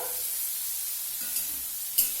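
Bitter gourd fries in a pan for uchche chachchari, a steady soft sizzle with a few light stirring scrapes and clicks, no voices.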